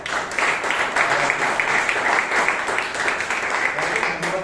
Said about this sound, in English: Please give the three of them a huge round of applause.